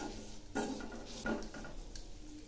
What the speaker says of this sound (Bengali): এই সুজিগুলো একটু হালকা করে ভেজে নেব